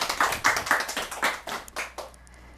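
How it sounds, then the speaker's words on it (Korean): An audience at a lecture claps to welcome the speaker, a short burst of moderately loud, fairly sparse applause that fades out within about two seconds. "그럼 박수로 우리 최혜진 박사님을 모시겠습니다."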